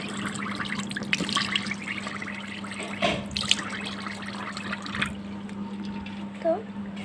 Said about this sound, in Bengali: এখন আমি বেসিনে মুখ ধুবো।